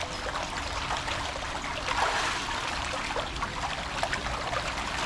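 Steady rushing, splashing water fills the scene at Sugba Lagoon in Siargao as someone swims, a continuous close wash of trickles and splatters with no voices.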